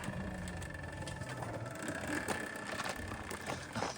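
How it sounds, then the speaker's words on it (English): An RTR electric motorbike fitted with a new heavy-duty chain rolls through a yard as it is pushed, giving a steady faint mechanical whirring and ticking of chain and sprockets, close by, with a sharp knock at the end. "it sounds like a regular motorcycle wheeling through the yard"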